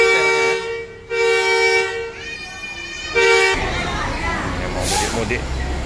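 A Rosalia Indah bus horn, stuck sounding from a fault, blares in long sustained blasts, briefly cutting out and resuming, then gives way to busy street noise and chatter.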